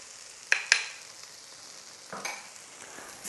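Caramelized onions with smoked paprika sizzle softly in a pan, broken by two sharp scrapes of stirring near the start and a couple more later, with no talking.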